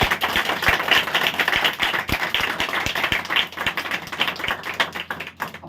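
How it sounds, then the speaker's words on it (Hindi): A church congregation claps loudly in a fast, irregular patter of many hands, with sharp individual claps standing out over a dense crowd of clapping. "जोर से ताली बजाए जरा अपने लिए।"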